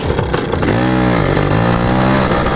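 A Piwi 80cc motorcycle engine revs loud and close, the pitch dipping and rising as the smooth, worn tyre slips, with a continuous buzzing tone for the whole stretch.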